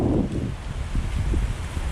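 Steady wind buffets the microphone with low, rumbling gusts that rise and fall, filling the whole clip without pause.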